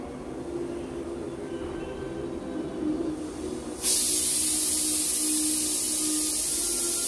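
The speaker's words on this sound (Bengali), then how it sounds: "এই যে প্রেশার কুকারের সিটির আওয়াজটা তোমরা শুনলে," A pressure cooker holding cabbage lets out its whistle in a home kitchen: a sudden, loud, steady hiss that cuts in partway through and holds to the end, after a quieter stretch of background room noise.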